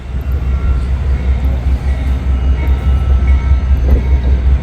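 Norfolk Southern freight train rolling past a level crossing in Muncie, a loud, continuous low rumble of wagons rattling by close at hand, with faint higher squeaks over the top.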